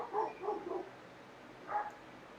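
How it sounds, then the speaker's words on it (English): A dog barks out in the street, a few yelps and woofs in a quick cluster, then one more bark after a short pause, faint and distant. "Sounds like a dog loose in the street."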